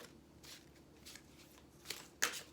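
Tarot cards shuffled by hand in a quiet room, several soft papery riffling bursts that build to louder, sharper slaps and flutters near the end.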